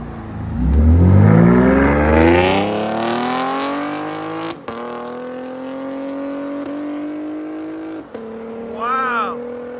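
A 2019 Chevy Camaro RS 3.6L V6 with an MRT cat-back exhaust revs up hard with a rising exhaust roar, then settles into a steady, deep drone as it cruises; a brief chirp near the end.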